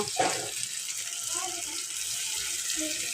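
A small child splashes and plays with running water at a kitchen sink, giving a steady, close gush with a sharper splash near the start.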